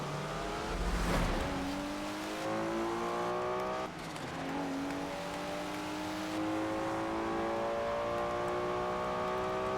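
A Porsche 944 Turbo races in Forza Horizon 4, its engine revving hard through rising gear pulls with a sharp shift around the middle and tire squeal, loud and close with no talk.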